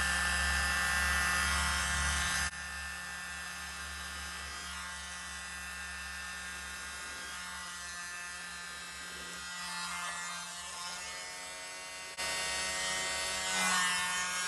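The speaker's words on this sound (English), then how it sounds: "I've got my little mini blower, and as my hair dryer decided to die on me" A small electric mini blower whirs steadily at close range, blowing fluid paint. Its pitch and loudness shift as it is pointed across the surface and moved.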